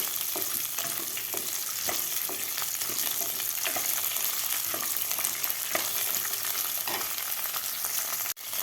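Fresh peas sauté in ghee for matar pulao, giving a dense, steady sizzle with occasional spoon strokes and stirring taps throughout. A sharp knock sounds near the end.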